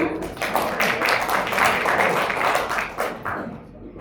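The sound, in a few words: applause, clapping hands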